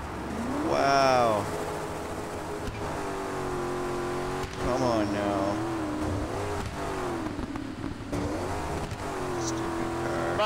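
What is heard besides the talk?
car engine revving in rally video game Dakar 18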